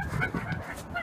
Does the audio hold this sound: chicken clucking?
yes